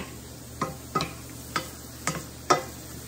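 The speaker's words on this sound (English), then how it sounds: "We're just gonna saute these until they get translucent, basically." A diced medium white onion sautés in a pan with a low, steady sizzle, punctuated by five evenly spaced scraping stirs of a utensil against the pan.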